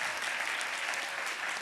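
Applause from an audience at a ceremonial swearing-in for members of Congress, a dense, steady patter of many hands clapping throughout the short moment, moderately loud with no voices standing out.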